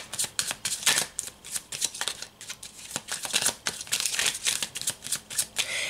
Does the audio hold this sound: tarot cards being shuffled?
yes